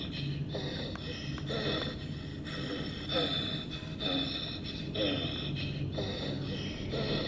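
Heavy, ragged breathing from a ghost in a dark horror video game, repeating in rhythmic gasping swells over a steady murky background, fairly close and continuous throughout.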